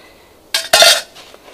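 A metal canteen cup and its lid are handled and knock together, giving two quick bright clinks in close succession, close and fairly loud, followed by a faint lighter tap.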